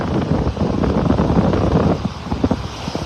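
Wind blows steadily across Vanderbilt Beach in North Naples, Florida, on a windy day with surf up, a loud broadband rushing buffet on the microphone with gusty swells and no talk.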